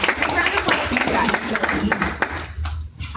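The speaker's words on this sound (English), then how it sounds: "round of applause for you guys" Audience applause at a co-founders meetup with company pitch demos, steady dense clapping filling the room at close range, tapering off near the end.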